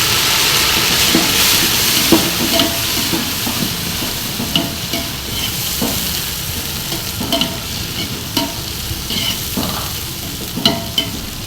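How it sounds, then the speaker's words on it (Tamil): Steady frying sizzle of tomatoes in a pan for mutton biryani, with occasional scraping and stirring clicks, continuous and fairly loud, no voices. "நல்லா தக்காளி வேகட்டும்."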